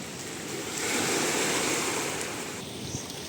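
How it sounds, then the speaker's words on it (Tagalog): Large ocean waves out at open sea off a coastal barangay, a continuous loud roar of surf with wind noise swelling and fading, no voices. "Pero pag doon sa batang laot, yun, malalaking alon doon oh."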